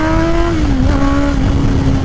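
Honda CBR 650R motorcycle with a new full aftermarket exhaust, revving loud and close with a steady droning engine note that dips and rises slightly, no talk.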